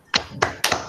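A few sparse claps picked up over open microphones on a remote video call for Fabián, four distinct close taps spaced roughly a quarter second apart.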